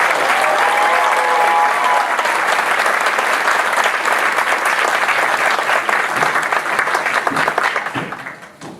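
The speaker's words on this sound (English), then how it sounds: "Let's give them a round of applause." A loud, dense round of applause from a gala audience at a community theatre volunteer event, steady for several seconds before tapering off near the end.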